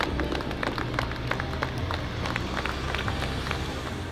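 Crowd applause for a Dakar rally driver at the start line, a dense steady patter of many hands held at an even level over low rumbling background noise, no clear voices.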